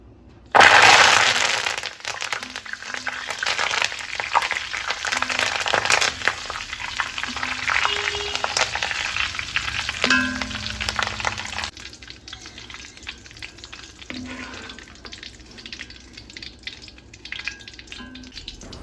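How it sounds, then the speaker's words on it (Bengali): Curry leaves frying in hot oil, with a sharp crackling burst at the start that settles into a steady, close sizzle with occasional pops and stirring clinks throughout. "এবার ভেজে নেব কারি পাতা"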